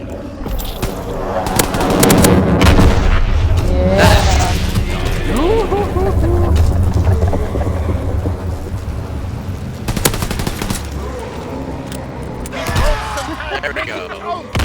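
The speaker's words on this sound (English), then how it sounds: "Launching capture V2 rocket." Booming rocket launch and bursts of gunfire from the Call of Duty WW2 video game, with a loud, dense rumble throughout and sharp blasts standing out near the start and around the middle.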